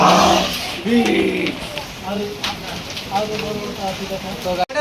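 Heavy rain mixed with hailstones pours down in a hill setting during a hailstorm, a steady dense patter close by, with people talking over it throughout.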